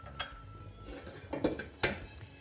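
Cumin and coriander seeds are tossed in a dry pan with no oil, giving soft scrapes and a few sharp metallic clinks from the pan, fairly quiet and close, with no talking.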